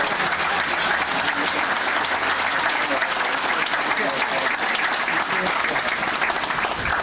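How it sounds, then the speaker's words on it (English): Loud, continuous audience applause at an outdoor statue dedication ceremony, many people clapping in a thick, unbroken roar for the full stretch. "I appreciate your applause"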